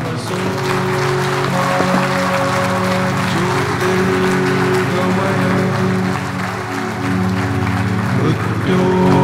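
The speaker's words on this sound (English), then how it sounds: "I think this occasion calls for a thunderous applause" Loud crowd applause at a science and technology awards ceremony marking a lifetime achievement award, dense clapping mixed with tonal music or sustained voices layered over it throughout.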